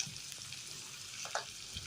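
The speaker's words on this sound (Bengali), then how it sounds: "এরপর আমি আলু এবং কাঁচা টমেটো দিয়ে একটু সাঁতলে নিয়ে নুন হলুদ অ্যাড করছি" Potatoes and green tomatoes sautéing in a pan with salt and turmeric for a morola fish curry, a soft steady sizzle with a couple of brief stirring scrapes, close and fairly quiet.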